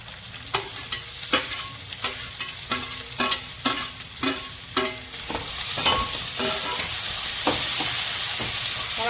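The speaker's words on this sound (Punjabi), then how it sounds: "ਹੁਣ ਆਪਾਂ ਇਹਦੇ ਵਿੱਚ ਪਾਵਾਂਗੇ ਪਿਆਜ਼" Onion fries in a tadka for Punjabi sarson ka saag, a steady sizzle under repeated sharp scraping strokes of a spoon against the pan, the stirring thinning out as the hiss swells toward the end.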